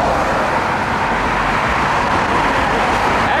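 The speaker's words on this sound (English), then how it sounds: "All these cars, all this loud-ass shit. Cars are loud" Loud, steady road traffic with cars passing close by, a continuous rushing roar of engines and tyres.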